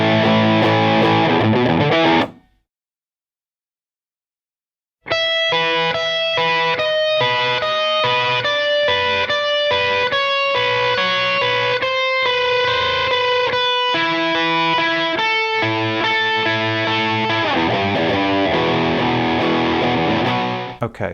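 Loud distorted electric guitar riffing, with chugging, repeated chord hits; a brief silent gap near the start, then the riff runs steadily at full speed.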